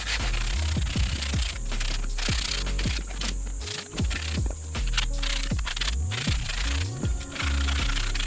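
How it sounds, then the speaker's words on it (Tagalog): Rough edges of a homemade wooden stool are sanded by hand with 100-grit sandpaper, repeated scratchy rubbing strokes in an uneven rhythm, close and fairly quiet, over a steady background hum. "Tapos ang gamit ko ay 100cc na sandpaper na liha."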